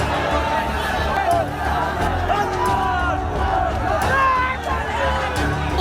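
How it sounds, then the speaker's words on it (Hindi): Angry crowd of protesters in Pakistan chanting slogans while breaking barricades, a dense, continuous roar of many voices with shouting rising and falling throughout. "उग्र भीड़ और बैरिकेडिंग को तोड़ते लोग, हाथों में बैनर, पोस्टर और कट्टरपंथी नारे लगाते ये लोग पाकिस्तान के हैं"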